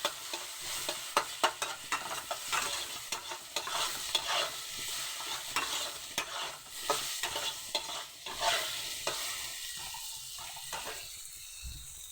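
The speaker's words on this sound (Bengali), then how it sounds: "এবার আমি আর একটু ভেজে নেবো ভালোভাবে" Vegetables fry in a pan after salt and turmeric go in, stirred steadily for about twelve seconds, giving a close, continuous sizzle broken by repeated scraping clatters of the spoon against the pan, with no talking.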